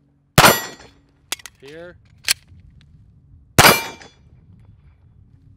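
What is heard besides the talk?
Glock 45 slide slamming home as the magazine is inserted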